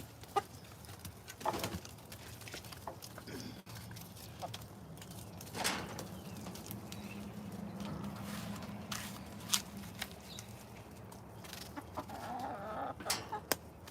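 Caged chickens cluck and murmur on and off, with a few louder squawks and some rustling and footsteps at moderate distance, no talking.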